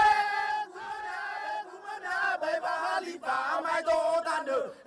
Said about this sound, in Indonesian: Pekik sorak pemantik semangat tempur ini diteriakan serentak oleh kaum lelaki Nias yang tengah larut dalam fataile atau tarian perang.